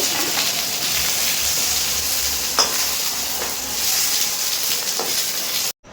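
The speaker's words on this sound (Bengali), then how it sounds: "কড়াইতে কিন্তু আবারও সর্ষের তেল দিয়ে দিয়েছি এখন ফোড়ন করে নেবো ফোড়নে দিয়ে দেবো হচ্ছে গোটা জিরে" Whole cumin seeds sizzle and crackle steadily in hot mustard oil in a kadai, a loud, continuous hiss with a few sharp pops, then a sudden brief cutoff near the end.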